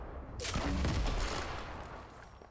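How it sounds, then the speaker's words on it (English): A shopping cart blown up by a grenade launcher in Fortnite bursts in a sudden booming blast, followed by a short crackling, rumbling tail that fades away. "Now look at this explosion."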